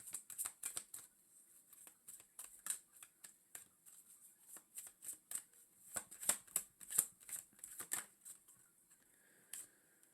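Tarot cards are shuffled and drawn in quick bursts of crisp riffling and slapping, with close, sharp clicks clustered irregularly and short quiet gaps between them.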